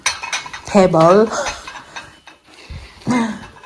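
Plates and cutlery clink and rattle as a Christmas table is set, close and fairly loud, while a voice talks over the handling.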